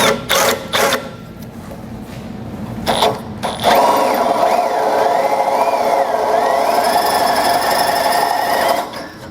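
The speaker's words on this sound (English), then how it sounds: "I'm going to drill up through it, through our bumper beam" Power drill boring up through the steel bumper beam of a 2015 Ford Taurus, a steady close whirring grind after a few short bursts, with wavering pitch as the bit cuts, no talk.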